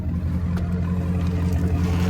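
Dodge Scat Pack exhaust revving up close, a loud, steady low engine rumble with a beefy tone holding for about two seconds, no talk over it.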